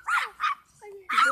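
Dogs give a quick series of close, high yipping barks in three short bursts, with a brief whine between them.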